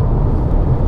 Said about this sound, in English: There's that downshift.